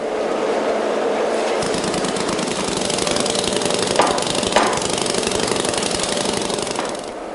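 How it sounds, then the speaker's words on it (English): Coarse sand is rammed into the cope of a foundry mould. A loud, continuous, rapid mechanical pounding runs throughout the clip, with a few sharper knocks along the way. "The cope is then rammed full of coarse sand."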